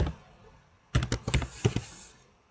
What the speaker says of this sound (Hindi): कीबोर्ड से टैब प्रेस करिए